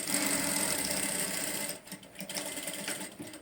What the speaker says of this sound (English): So I'll be sewing it straight down